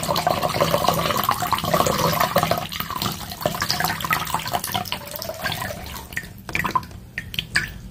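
Water is poured into a cup until it overflows onto a table, making a continuous gurgling splash and trickle that runs throughout and ends in a few drips and spatters.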